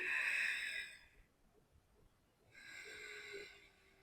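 Ujjayi pranayama breathing with deliberate throat friction, a soft ocean-like rushing hiss heard twice in close, steady breaths separated by a quiet pause.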